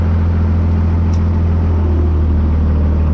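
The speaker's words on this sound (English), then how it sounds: "Let's go for a test ride." A Cummins diesel-swapped monster truck rumbles steadily on a test ride, a loud, continuous low engine drone with deep bass throughout and no talk.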